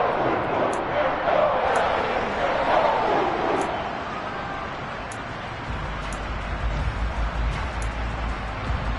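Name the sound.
stadium crowd cheering at football game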